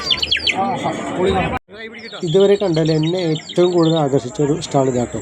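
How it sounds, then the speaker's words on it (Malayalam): At a Thrissur Pooram exhibition stall, a water-filled clay whistle gives quick warbling, bird-like chirps up close. Loud talking follows right after. "ഇതിൽ വെള്ളം ഒഴിച്ചിട്ട് ഊതി കഴിഞ്ഞാൽ കിളി കരയുന്ന സൗണ്ട് കേൾക്കാം."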